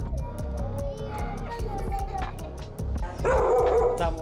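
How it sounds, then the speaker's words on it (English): A dog barks from a downstairs neighbour's home in a crowded Venezuelan dwelling, with a few short barks heard below, mixed with voices, and the loudest bark near the end. "The dog barking is the downstairs neighbors"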